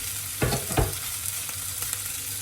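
Medium potatoes and cauliflower tossed into a hot frying pan for aloo gobi hit the oil with two sharp thuds and bursts of sizzle, then a steady frying hiss with a few faint clinks.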